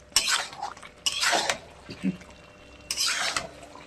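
Mutton is sautéed in a pot while a spoon scrapes and clanks against the metal in three or four short bursts, with quiet gaps between the strokes and no sizzle standing out.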